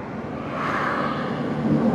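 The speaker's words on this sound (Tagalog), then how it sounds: "may helicopter dito, oh." A helicopter flies overhead near a military range boundary, a steady, loud engine drone that swells slightly as it passes, with no talking.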